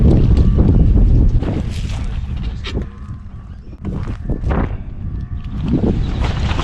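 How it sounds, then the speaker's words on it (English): Strong wind on the shore at the Texas City Dike buffets the microphone in heavy, loud gusts that rise and fall over the whole stretch. "wind's picking up. You can probably hear right now"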